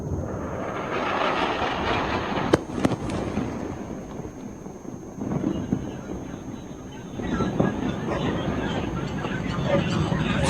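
A loud blast in Kabul near the Baron Hotel rings out amid rumbling, crackling noise, with a few sharp bangs and a sustained roar, as voices murmur in the background.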